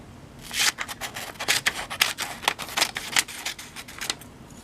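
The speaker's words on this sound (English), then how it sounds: "This other pair with the broken tip also still cuts. Little kids' safety scissors." Small children's safety scissors with a broken tip snip repeatedly in a quick, uneven rhythm, close and crisp, with no one speaking.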